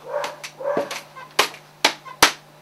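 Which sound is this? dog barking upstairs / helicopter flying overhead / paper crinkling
dog barking upstairs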